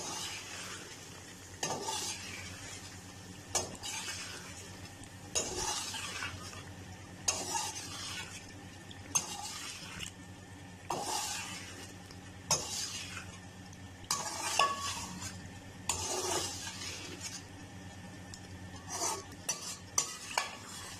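Yogurt is stirred into a chicken masala curry in a pot, with rhythmic spoon scrapes and clanks against the metal every couple of seconds over a soft, low simmering sizzle, and nobody talks.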